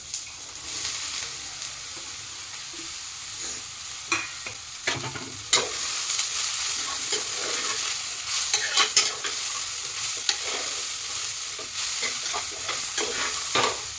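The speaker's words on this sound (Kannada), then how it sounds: "ಇದು ಒಂದು 3-4 ಮಿನಿಟ್ಸ್ ಸ್ವಲ್ಪ ಆಯಿಲಲ್ಲೇ ಸ್ವಲ್ಪ ಚೆನ್ನಾಗಿ ಫ್ರೈ ಆಗಬೇಕು" Chopped carrots, beans and a small potato fry in ghee, a close, continuous sizzle punctuated by frequent scraping stirs of a spoon across the pan, with no voices.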